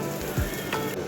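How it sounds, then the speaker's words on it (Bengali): Semolina batter poured into a hot pan gives a short, bright sizzle with a brief swooping clatter from the pour, close and fairly loud. "তো ফটফট করে এর উপর দিয়ে দেন 2 হাতা ব্যাটার"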